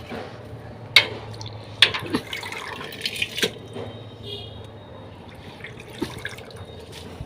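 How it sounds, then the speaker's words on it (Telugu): Gongura leaves are rinsed in water, with several sharp splashes and drips in the first few seconds, then quieter trickling and a last drip near the end, heard up close. "నీళ్ళలో కడిగేసి అయితే గిన్నెలో వేయాలి ఫ్రెండ్స్"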